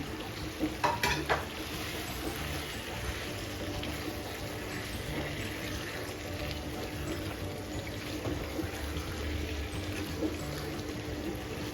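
Hilsa fish curry with green chilies sizzling and frying steadily in a pan, producing a soft, constant crackle and hiss with a few brief clinks near the start.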